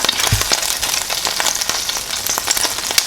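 Butter, about two tablespoons, melts and sizzles in a pan, giving a steady crackling hiss with small popping bursts, close and fairly loud with no talk.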